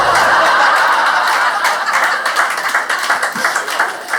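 Audience at a stand-up comedy show in a crowded room bursting into clapping mixed with laughter, loud and sustained at first, then thinning into scattered claps and chuckles.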